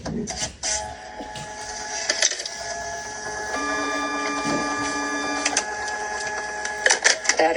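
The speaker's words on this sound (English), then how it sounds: "We're going to put the progesterone test in the machine." A progesterone test analyzer runs with a busy mechanical whir, overlaid by steady electronic tones and repeated clicks and ticks. It sounds close and moderately loud, with faint background noise.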